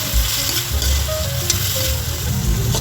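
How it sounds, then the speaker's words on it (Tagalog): Salt-boiled chicken flakes sauté in a pan with onion and tomato, crackling in a loud, continuous sizzle with a low rumble and faint tonal hum underneath, no voices. "Saglit lang natin igisa yung chicken guys kasi pinakuluan ko to sa asin."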